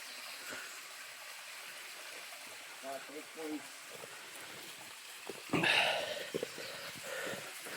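Water from a small waterfall rushes steadily at a moderate level, a broad continuous wash, with a voice speaking briefly in the middle and a louder splashing burst near the end.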